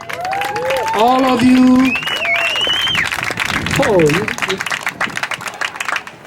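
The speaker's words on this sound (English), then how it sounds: "How about a round of applause for all of you?" A crowd at an anti-GMO march in Hale'iwa claps and cheers, a broad, loud wash of applause heard under and after excited voices shouting nearby.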